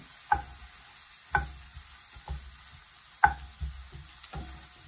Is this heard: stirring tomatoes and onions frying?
yes